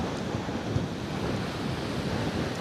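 Gusty wind buffets the microphone while fishing with a rod, a continuous loud roar of broadband rumble and hiss with no voices.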